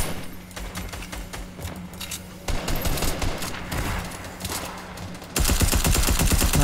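Rapid bursts of gunfire and automatic weapon fire from the video game Fortnite, in Team Rumble mode, play continuously and loudly, with dense volleys that intensify toward the end and no talking.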